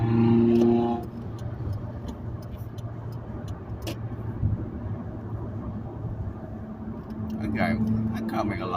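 A passing car with a loud aftermarket muffler gives off a steady, heavy engine rumble that holds close and loud for several seconds, with voices talking over it.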